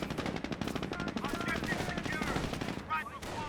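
Volksgrenadier rifles fire a ragged volley at a Jeep in Company of Heroes, dense overlapping cracks and rattling shots in a busy battle mix, with a voice talking over the gunfire.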